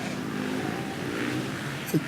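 A 250cc four-stroke motocross bike races in a regional championship on Réunion, its engine revving steadily at mid distance under crowd ambience for about two seconds.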